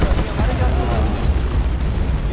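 A tank is destroyed in the Battlefield: Bad Company 2 video game, bursting in a loud, heavy explosion that rolls on as a deep, sustained rumble, with a voice talking over it.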